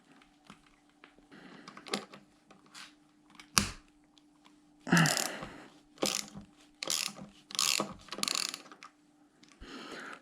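A hand ratchet works the lower and upper fork clamp screws on a classic motorcycle fork, giving rapid clicking pawl bursts in irregular spurts, close and fairly quiet, without talk.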